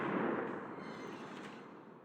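Heavy artillery fire in the tank battle game World of Tanks, a loud, dense rumbling blast that swells at the start and slowly trails off over two seconds with no voices.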